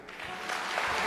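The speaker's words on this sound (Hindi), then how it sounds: "अपने लिए ताली बजाओ" Applause from an audience at a live Bhagavat Katha religious discourse in Adelaide, a dense steady clapping that swells slightly over about a second.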